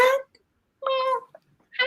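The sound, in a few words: cat meowing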